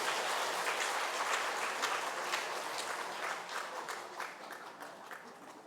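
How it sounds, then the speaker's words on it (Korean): Church congregation applauding to welcome a newborn baby girl during a Sunday service, sustained dense clapping throughout that gradually tapers off toward the end. "오하임이에요. 우리 박수로 한번 환영할까요?"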